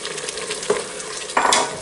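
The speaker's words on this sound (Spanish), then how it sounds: "lo dejaremos un poquito más para sofreír el tomate" Grated fresh tomato fries and sizzles in a pan for rice with chicken and rabbit, a steady hiss with two brief bursts of louder sizzling as it is stirred.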